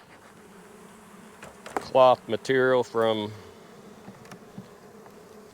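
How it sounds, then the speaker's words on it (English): Honey bees in a hive box give a steady, low buzzing hum throughout, with a short burst of nearby speech over it. "Another box full of bees"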